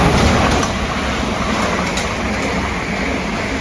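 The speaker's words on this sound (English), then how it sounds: "There's a train passing." A passing train rumbles loud and close in an outdoor setting, a steady, broad roar of rolling wagons that holds without a break.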